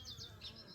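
A swarm of bees moving into a new home makes a brief, faint buzzing hum that pulses slightly in strength.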